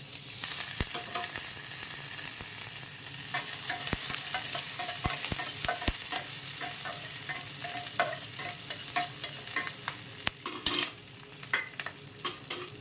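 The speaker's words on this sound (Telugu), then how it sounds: "ఆవాలు వేగిన వెంటనే జీలకర్ర కూడా చక్కగా వేగిపోతుంది అలాగే ఇదిగోండి కరివేపాకు పచ్చిమిరపకాయ ముక్కలు" Mustard seeds, cumin, curry leaves and green chilli pieces sizzle and crackle in hot oil in a pan, tempering for a sago khichdi, with a steady frying hiss and scattered sharp pops near the pan and no voices.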